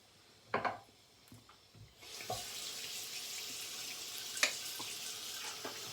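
Tap water runs into a bathroom sink during shaving, beginning with a few faint knocks and clicks before a steady, fairly quiet hiss of flowing water sets in and continues.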